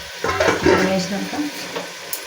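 Rice stirred with masala in a pot for vegetable biryani, a few scraping, shuffling stirs with a soft sizzle underneath, close and fairly loud at first, then thinning into lighter scrapes.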